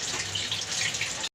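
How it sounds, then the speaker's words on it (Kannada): Hot water pours in a steady continuous stream in a home kitchen during fish cooking, close and fairly loud for about a second before stopping abruptly. "ಚೂ ನೀರು ಪಾಡೋದೆ"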